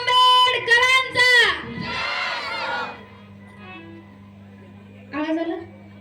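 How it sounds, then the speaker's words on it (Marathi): A crowd at an Ambedkar gathering with a sound system shouts a slogan honouring Dr. Babasaheb Ambedkar in unison, a loud massed burst answering a lead voice, then fading into background murmur and hum. "एकदा सगळ्यांनी माझ्यासोबत म्हणायचंय, डॉक्टर बाबासाहेब आंबेडकरांचा."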